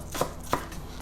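A knife slicing spring onions on a cutting board, with two sharp close chops and a fainter third cut, quick and crisp in a quiet kitchen.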